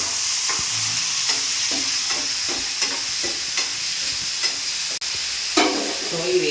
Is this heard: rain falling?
no